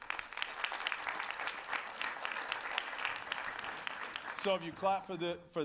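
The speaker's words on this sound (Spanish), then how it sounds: "Si aplaudieron por eso, también van a aplaudir por esto." Steady applause from an audience at a county State of the County address fills most of the stretch, then fades as a voice begins speaking.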